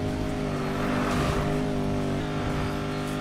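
A Porsche engine in Need for Speed Payback drones steadily at close range, a continuous even roar with a slight shift in pitch midway, no voices.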